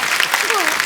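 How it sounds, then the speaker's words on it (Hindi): A studio audience on The Kapil Sharma Show breaks into loud applause for three children, a thick burst of clapping with a voice carrying over it. "तीनों बच्चों के लिए जोरदार तालियां"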